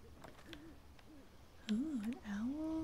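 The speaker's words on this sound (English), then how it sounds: "Like that little owl sound effect." A small owl in Skyrim gives a few soft wavering hoots, the last ones louder and more sustained, heard alone over a quiet ambient background.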